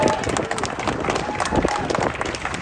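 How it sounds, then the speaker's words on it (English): Crowd applause for Gina Fan at a housing-rights rally, a continuous mass of clapping mixed with crowd noise and voices, moderately loud and sustained throughout. "Everybody give Gina Fan a round of applause."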